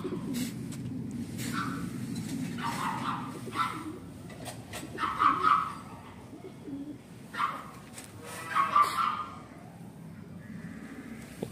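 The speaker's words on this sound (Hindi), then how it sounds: "ये फिरोजपुरी कबूतर मेरा" Ferozpuri pigeons in a breeding loft call in several rising, throaty bursts over a murmuring background, with gaps of quieter rustling between the calls.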